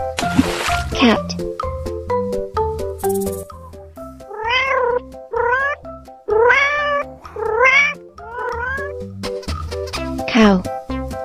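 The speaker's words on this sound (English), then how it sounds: "Cat." A cartoon cat meows in a series of about six distinct, rising-and-falling cries, loud and close, over light background music in an educational animal-names cartoon.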